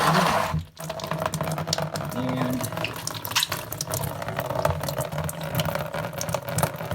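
Water pouring from a clogged Maytag washing machine drain hose into a tub, a steady watery rush with splashing that continues throughout, a brief word spoken near the start.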